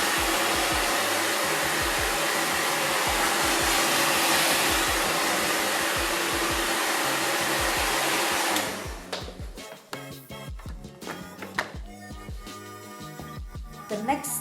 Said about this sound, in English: after I put press on, I just quickly blow dry.